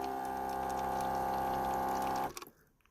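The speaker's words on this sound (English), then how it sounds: "I have a 5-gallon water container with a USB pump." A USB pump on a 5-gallon water container hums steadily with a pouring trickle of water and switches off after about two seconds, leaving a few faint drips.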